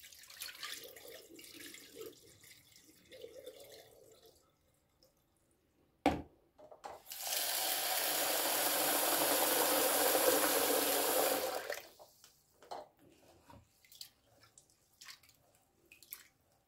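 Rice is washed by hand in a bowl, with soft sloshing and rubbing of the grains, then a tap runs in a steady rush for about five seconds before stopping, followed by more quiet swishing and drips.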